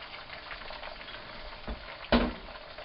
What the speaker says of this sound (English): I always start out with the eggs, and basically I'm just going to scramble them first. I make sure my wok is hot.